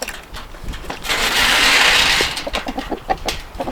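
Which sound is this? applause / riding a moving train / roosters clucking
roosters clucking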